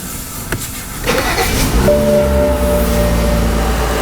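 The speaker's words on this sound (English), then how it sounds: "The engine needs to be running in order to clean this vehicle" A BMW X6 engine cranks and catches about a second in, then settles into a steady, loud, close idle with a smooth drone; no one speaks.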